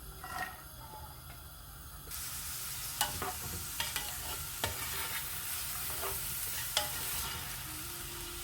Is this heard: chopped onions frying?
yes